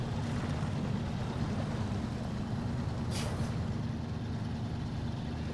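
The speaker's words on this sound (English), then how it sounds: "I really like the way this truck sounds too." A Fleetstar truck engine in the SnowRunner video game gives a steady, loud, low rumble throughout, with a brief hiss of air partway through.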